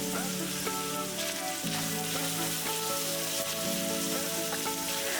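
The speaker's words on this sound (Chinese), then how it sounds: "肉末下锅炒香炒散，加入1小勺郫县豆瓣酱和1小勺黄豆酱，" Minced meat stir-fries in a wok with Pixian broad bean paste and soybean paste, sizzling loudly and steadily up close, with faint tonal clinks through the hiss.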